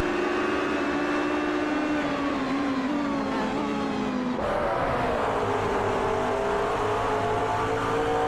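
McLaren GT race cars lap the VIR circuit in a sim-racing league event, a loud continuous engine drone with rising and falling pitch as revs change, shifting tone midway as cars pass, no voices.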